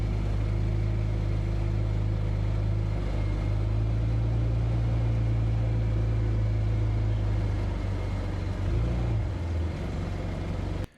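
An affordable side-by-side utility vehicle rolls along in high gear, its engine a constant low drone with a rumbling hum, close and loud from start to finish, easing down in pitch near the end before cutting off abruptly.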